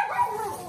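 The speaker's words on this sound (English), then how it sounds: "Them dogs crazy." Dogs bark and yip in a short, loud burst, close by, with no talking over it.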